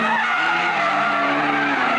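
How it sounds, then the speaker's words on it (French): A Toyota Celica rally car skids at a 1998 motorsport event, giving a loud, sustained tyre squeal with a tonal whine over engine roar. "Sur la seconde Toyota Celica de René Duval, on trouve Laurent Bayard"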